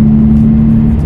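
A Porsche 993 engine howls above 5,000 rpm as the car is opened up on the road, a loud, steady, sustained drone with no voices over it.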